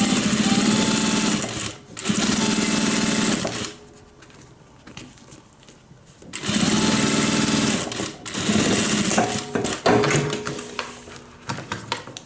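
Sewing machine running a 1/2 inch joining seam on a cabin bag, a steady rapid whir in long runs, broken by brief stops and a quieter pause in the middle, loud and close.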